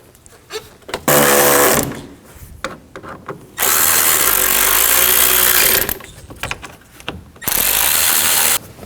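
A power drill runs in three long bursts while screws are driven in during a 2009-17 Chevy Traverse headlight replacement, with loud sustained whirring separated by brief quiet handling noises.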